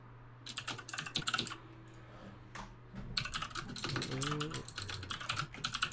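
Computer keyboard keys are tapped in quick, uneven bursts close to the microphone, with short pauses between runs. A voice is heard briefly beneath and between the clatter.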